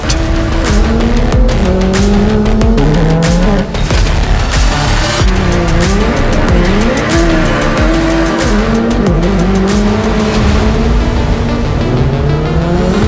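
A Hyundai RN24 electric race car, a small EV with a motorsport-derived powertrain, drives hard with a rising and falling whine as it accelerates and brakes, plus tire squeal and skidding, loud and close throughout.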